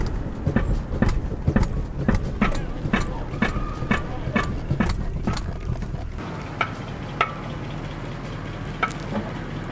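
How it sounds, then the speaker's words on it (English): Repeated metal-on-metal clunks come from the front end of a 1989-1994 Lexus LS400 with worn strut rod bushings, as a steady series of close knocks over a low rumble. "you can hear some metal on metal noise"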